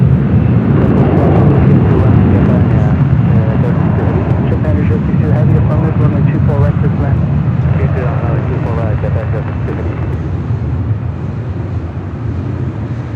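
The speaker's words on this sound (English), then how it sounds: "JetBlue Airways Flight 2735 coming in from SFL in an A320" A JetBlue Airways A320 airliner arrives at LAX with a loud, broad engine roar that fades slowly and steadily across the clip.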